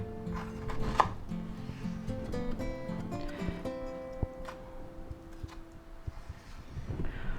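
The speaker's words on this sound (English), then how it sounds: "Now we're going to slice these up again as thin as you can" A knife slicing mushrooms thinly on a cutting board, with a run of quick, irregular chopping taps close up and clear, with no talking.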